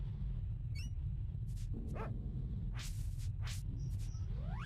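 Dog barking in the Secret of Evermore video game, a few short barks and yips scattered over a steady low rumble of game background noise.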